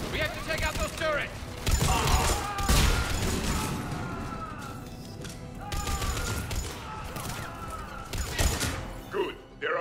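Mass Effect 3 combat: sustained bursts of automatic gunfire from turrets and Cerberus troops, loud and dense, with explosions and impacts mixed in and voices talking over the fighting.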